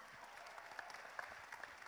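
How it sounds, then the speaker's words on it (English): Faint, scattered clapping from a church congregation, a thin patter of hands with a few sharper individual claps standing out, heard from a distance at low level. "Clap it up for her, y'all."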